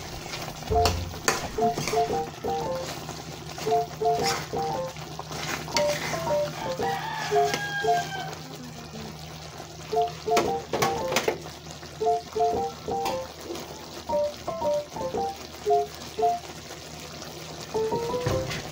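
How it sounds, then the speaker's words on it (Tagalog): A spoon stirs garlic chicken in a cream sauce seasoned with salt, pepper and sugar, making a soft simmering sizzle with regular scraping strokes and clinks against the pan, while someone talks over it and a rooster crows faintly in the distance. "halu-haluin lang para para humalo yung mga nilagay nating asin, paminta, tsaka asukal sa cream"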